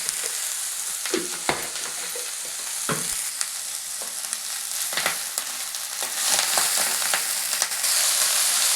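Ponnaganti greens and eggs sizzle steadily in a pan, a continuous frying hiss broken by scraping stirs and a few sharp spatula knocks, close and moderately loud with no voices.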